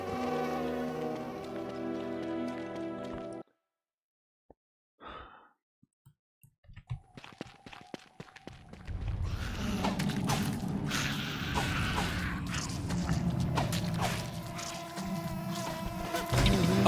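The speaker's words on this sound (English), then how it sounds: "these are like evil bees" Evil bees in Don't Starve Together buzz as a steady insect drone that swells in the second half, over game music and ambience, after an earlier stretch of music and a near-silent gap.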